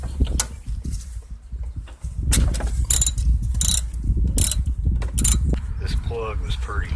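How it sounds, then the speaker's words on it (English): A ratchet with a 5/8 socket backing the spark plug out of a 2007 John Deere LA110 lawn mower, giving repeated close, sharp clicking strokes over a steady background hum. "5/8 socket. Gonna take this plug out."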